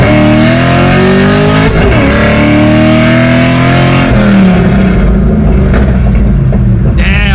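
A Paxton Novi supercharged 3V Mustang GT running lean revs hard and accelerates loudly from a 40 mph roll in second gear, rising in pitch, with sharp popping bursts from the exhaust near the end.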